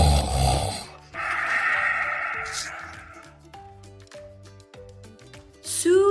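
A wolf snores in a read-aloud Little Red Riding Hood fairy tale, a voice imitating the sound with a few drawn-out, rhythmic snores and snorts, close and fairly loud, set over light background music.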